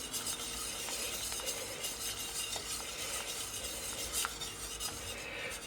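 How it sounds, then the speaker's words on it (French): Munster cheese sauce being stirred in a pan over heat until the cheese melts, a steady close scraping and swirling with a soft sizzle beneath and occasional utensil clicks against the pan. "on remue jusqu'à temps que le fromage soit bien fondu"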